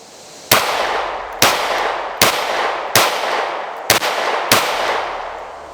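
Six sharp, loud gunshots from a small concealed-carry handgun fitted with a compensator, fired at a steady pace about one per second, each with a brief ringing tail and no talk.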